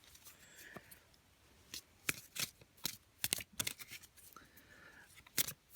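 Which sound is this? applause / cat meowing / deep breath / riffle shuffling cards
riffle shuffling cards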